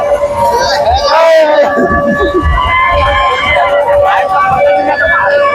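Festival crowd at Dasara, a loud continuous babble of many voices with a siren-like whine and children's chatter mixed in, someone talking close by.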